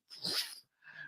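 A dog gives a brief, close yelp or whimper followed by a softer, shorter whine, all within about a second.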